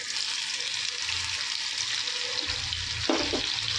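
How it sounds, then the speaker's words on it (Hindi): Onion going into a pan of oil already crackling with cumin and asafoetida on a slow flame: a steady close hiss of frying, then a brief louder burst of sizzle near the end, with no voices. "अब डाल देते हैं इसमें हमारा अनियन।"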